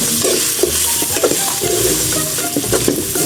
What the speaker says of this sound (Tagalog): Haluin lang natin mga idol.